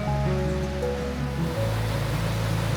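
Rushing water of Bridalveil Falls in Yosemite, a steady loud broadband roar with low tonal hum running throughout, no voices.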